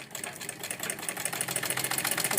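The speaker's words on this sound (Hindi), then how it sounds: "उसको हम सिलाई करेंगे।" A sewing machine stitches the crotch seam of a patiala salwar, running in a steady, fast rhythmic whir throughout at close range with no talking.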